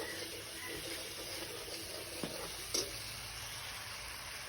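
Green chilli paste frying in a pan, giving a steady low sizzle with a couple of brief knocks partway through, no voices.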